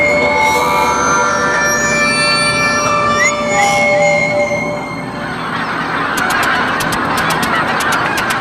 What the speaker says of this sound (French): Les oies.